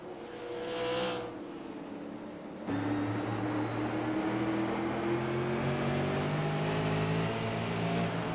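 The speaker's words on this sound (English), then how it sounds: "Sounds like he's playing with the throttle a little bit, trying to save" Race car engine from a Roaring Thunder Racing League event at Myrtle Beach, held in a steady, loud drone with shifting harmonic pitch as the throttle is feathered late in the race, jumping louder after a brief quieter opening.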